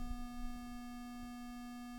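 A SuperCollider pulse wave synth holds at its envelope sustain as a quiet, steady buzzing tone with evenly stacked harmonics and no attack or decay, unchanging and alone.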